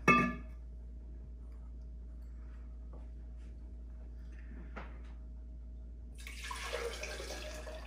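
Hot water splashes into a coffee cup to preheat it beside a Cuisinart 12-cup automatic drip coffee maker, a brief pour near the end after a quiet stretch with a faint hum and a few small clicks.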